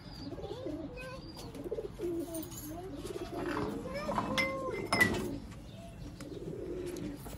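Sialkoti rooftop pigeons cooing, soft repeated low coos close by with some rustling and a sharp clink midway, murmured voices in the background.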